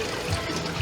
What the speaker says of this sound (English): just gonna go ahead and empty out all the water